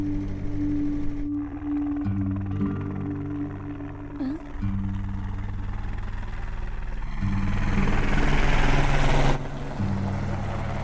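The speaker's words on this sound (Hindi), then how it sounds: "भैया वो देखो हेलीकॉप्टर।" A helicopter flies overhead with a deep droning rotor hum and engine whine, loud and continuous, swelling louder toward the end.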